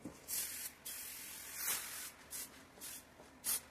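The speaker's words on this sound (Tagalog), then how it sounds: "Lysol, antibacterial. Okay, mag-spray." Lysol antibacterial disinfectant is sprayed onto a fabric bed in several short, close hissing bursts with brief pauses between them, fairly quiet overall and with no talking.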